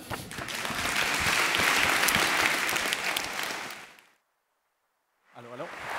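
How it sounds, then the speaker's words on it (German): An audience at a German science slam gives loud, sustained applause for about four seconds before it fades into silence, followed by a voice starting to speak. "Applaus für Herrn Mesa."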